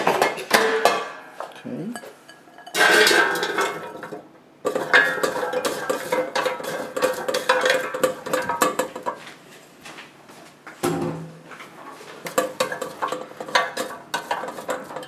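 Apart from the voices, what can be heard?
fries placed in a Rosewill air fryer basket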